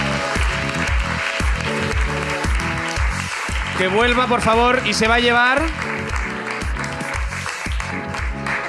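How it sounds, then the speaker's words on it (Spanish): An audience at a live Spanish comedy show claps for a contestant, the applause rising beneath a rhythmic music bed while people talk over it. "un aplauso"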